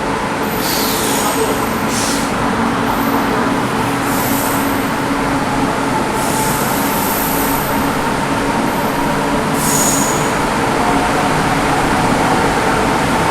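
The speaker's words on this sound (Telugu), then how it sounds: "యాక్సిలరేషన్ వచ్చేటప్పుడు ఆ ట్రాక్షన్ మోడల్ సౌండ్ ఎంత నీట్గా ఉంటుంది" An electric express train accelerates with a steady, loud roar of traction motors and wheels, a continuous drone with faint high whines rising now and then.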